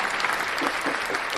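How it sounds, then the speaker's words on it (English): Studio audience applause fills the moment, dense steady clapping from many hands at a moderate, even level with no voices standing out. "You deserve a round of applause."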